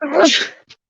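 A single sharp sneeze close to the mic during a casual UFC podcast chat, a loud burst of under a second followed by a brief faint after-sound.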